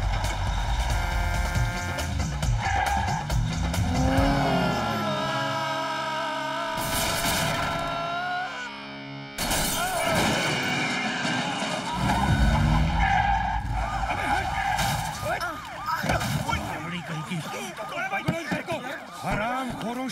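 A Mercedes races and skids through a movie car chase with police in pursuit, tires squealing and the engine roaring under loud music and shouted dialogue, with the skids returning in waves across the scene.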